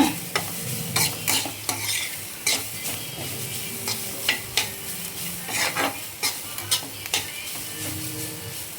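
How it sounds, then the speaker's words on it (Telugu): Grated carrot is stirred and fried in a pan with a little oil: a steady sizzle runs under repeated scraping strokes of a spoon against the pan, close and alone, with no talking. "క్యారెట్ స్మెల్ పోవాలి కదండి, అందువల్ల బాగా వేపుకోవాలి మనం"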